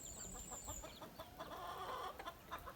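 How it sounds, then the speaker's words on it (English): Chickens on a small farm with a rooster and hen nearby, giving a run of short clucking calls and fowl chatter outdoors, moderately close amid steady farmyard background noise. "See the hen here."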